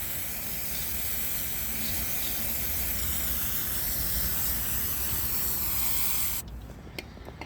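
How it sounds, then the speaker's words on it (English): Brake cleaner sprays in a steady loud hiss onto oil-soaked concrete, a continuous close aerosol jet lasting several seconds before cutting off into quiet with a few faint ticks. "this brake cleaner will get down into the concrete and lift the oil out"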